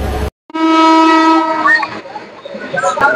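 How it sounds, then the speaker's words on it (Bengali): The Banalata Express pulls out of Airport station with a long, loud, sustained horn blast close by, followed by rumbling wheels and rail clatter as it moves off, with a voice faintly audible underneath. "সেই ট্রেন এখন বিমানবন্দর ছেড়ে কমলাপুর অভিমুখে যাচ্ছে"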